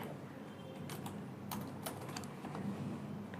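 Keys clatter on a computer keyboard in a burst of quick, uneven clicks, close and fairly quiet over a steady room hum, with no talking.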